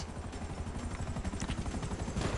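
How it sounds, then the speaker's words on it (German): Helicopter rotor thumping steadily overhead in the video game GTA 5, a dense, pulsing low chop that stays loud and constant throughout. "Heli irgendwo."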